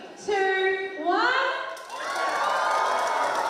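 A basketball crowd at a WNBL preseason tournament game cheers for Ben, a loud swelling roar of shouts and whoops that rises and holds close by.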